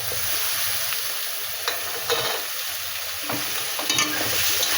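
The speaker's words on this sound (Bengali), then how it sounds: "টমেটো দিয়ে নেড়ে চেড়ে" Tomato being stirred and fried in a hot pan for a fish curry with kohlrabi and eggplant, a steady loud sizzle with scraping stir strokes breaking through at intervals, no talking.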